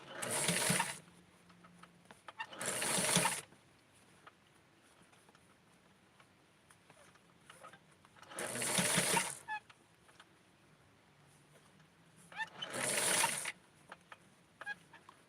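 A sewing machine stitches doll clothes in four separate bursts of about a second each, with quiet gaps between them. The whir is close and mechanical, and nobody speaks.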